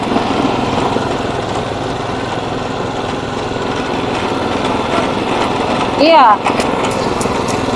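A small engine-driven sugarcane juice machine runs steadily and loudly throughout at a street stall, with a short burst of squeal partway through and a brief spoken word over the drone.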